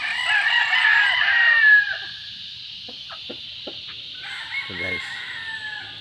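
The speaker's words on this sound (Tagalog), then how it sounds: "Ito ang Bantam ko yan." A Bantam chicken crows loudly and close by, then clucks in short, scattered bursts, with a brief voice speaking once.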